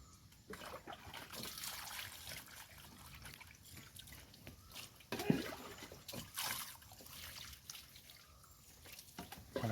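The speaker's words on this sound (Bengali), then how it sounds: "তো এবার আমি যখন জল দেবো পুরো স্কিনটা ওয়াশ হয়ে গেছে" Water runs and trickles over a screen printing screen as it is rinsed clean, a steady splashing wash with a few sharper spurts.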